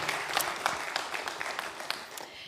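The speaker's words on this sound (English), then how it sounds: "So if we could give her a big round of applause, please." A conference audience at a Python event gives a big round of applause for a speaker, with crisp, dense clapping that stays fairly close and loud throughout, a few sharper individual claps standing out.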